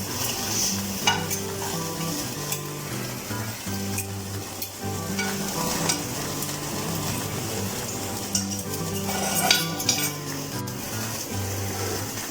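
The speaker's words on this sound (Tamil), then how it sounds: "ரெண்டு சிக்கனையும் 2 பீஸையும் வச்சாச்சு. இதில் இது கிரில் ஆகட்டும்." Chicken pieces sizzling on a grill in a home kitchen, a steady close frying crackle running throughout with no talk.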